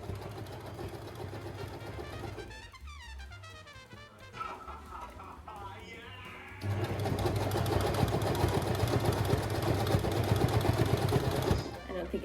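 A sewing machine stitching a puffed-sleeve garment runs in uneven bursts with pauses, its needle sounding strained. The motor hum grows louder and steadier toward the end, and a voice can be heard in places.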